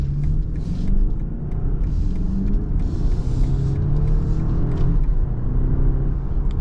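A 2022 BMW X3 with a 2.0 engine accelerating under firm throttle, a deep steady engine drone inside the cabin rising in pitch with abrupt, aggressive gear shifts.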